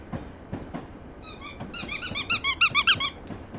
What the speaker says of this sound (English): oh, puppy dog.